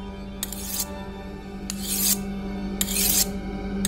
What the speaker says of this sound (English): he had begun again to scrape at the stone